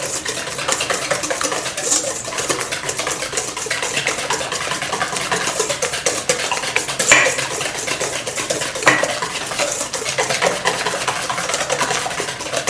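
Sugar and vanilla essence being whisked for a fruit cake batter, a fast continuous clatter and scrape of the whisk against the bowl, steady and close, with a few sharper clinks.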